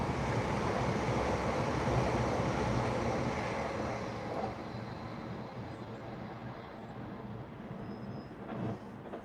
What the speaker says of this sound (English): an Avanti 805 that way, from Blackpool North to London Euston on the slow line